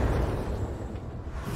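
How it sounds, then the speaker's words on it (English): A mech's ammunition cooks off in the game BattleTech, a dense, rumbling explosion roaring continuously at full loudness with a heavy low-end boom and no pause. "Ammo explosions."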